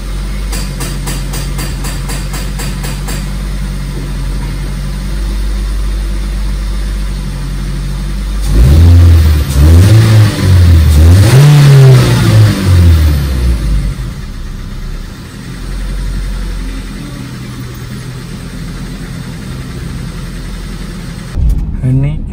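A Nissan Grand Livina engine warming up idles steadily, then revs up and down in several rising and falling surges before settling back to a low idle, loud and close, with talking over it.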